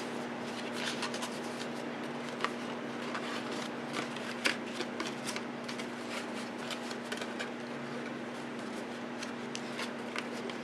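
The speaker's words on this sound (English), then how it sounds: "now we're going to crease on all of our fold lines" Paper box folds being creased by hand, a soft steady rustle with scattered light crackles and scrapes over a constant low hum, close and quiet with no talking.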